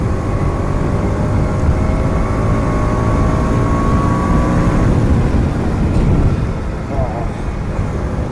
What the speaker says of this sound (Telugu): ఇక్కడ మనం కొంచెం స్పీడ్ అయితే పెంచుతాం